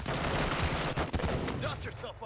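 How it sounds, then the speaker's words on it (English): Rapid gunfire from a Call of Duty Modern Warfare 2 match, dense bursts of shots loud and continuous through the whole stretch, with game noise and a brief voice underneath. "I got a guy shooting me."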